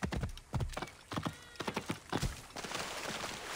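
A horse clip-clopping in the video game Assassin's Creed Origins, rhythmic hoofbeats on the ground in uneven bursts with a brief whinny, fairly close and without speech.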